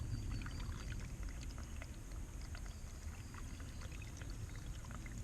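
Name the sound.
babbling brook water flowing at Slaty Creek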